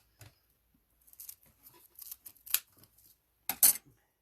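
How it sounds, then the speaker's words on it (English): Scissors snip through deco mesh for a petal wreath in a series of close, irregular cuts with crisp rustling of the mesh between them, ending in a louder pair of snips. "that's where I'm going to cut my mesh"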